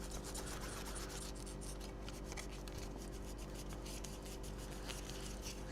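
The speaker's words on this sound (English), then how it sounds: "First time using one of them sponges on a black plastic." A Magic Sponge rubs back and forth over a black plastic Xbox controller, giving a faint, continuous close-up scrubbing and rasping with no voices.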